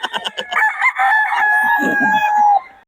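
A three-year-old gamefowl rooster, an old bird at a market in Bocaue, lets out one loud, close, drawn-out crow, with faint background voices.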